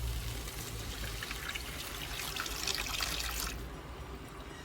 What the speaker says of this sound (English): Now I'm going to add 1 cup of water.